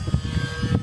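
An E-Flite UMX Gee Bee R2 small model airplane runs its motor at high RPM, a loud, steady buzzing whine with quick pulsing surges, close by and alone.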